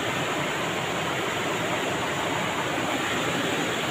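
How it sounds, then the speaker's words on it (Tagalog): A strong river current rushes loudly and steadily in a countryside setting, a dense, continuous roar with no break and no voices over it. "lalong lumakas yung ilog"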